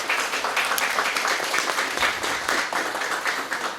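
An audience claps at a promotion event for a Green Map mobile app, a dense, steady round of applause throughout, fairly loud and close.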